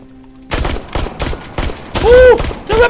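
Rapid gunfire in the Terminator Resistance video game, a quick run of loud, evenly spaced shots after a brief quiet start, close and punchy, with a voice briefly shouting over the shooting.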